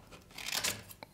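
Scissors cut through paper to free heart shapes for a children's garland, a short close crisp rasping snip with no talk over it.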